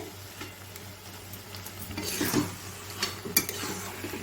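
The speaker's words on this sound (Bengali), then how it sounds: "তারপর মশলা দিয়ে এই যে কষানো হচ্ছে" Boiled taro leaves sautéed with spices and coconut in a pan, making a steady low sizzle with scraping stirs and occasional utensil clinks against the pan, louder toward the middle.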